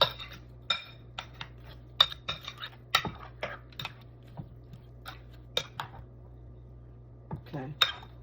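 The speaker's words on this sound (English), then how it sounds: "we're gonna mix it up until we don't see any more flour" A spoon working peach crisp batter with flour in a bowl, giving irregular sharp clinks and scrapes against the dish, close and fairly loud over a steady low hum, with talking in between.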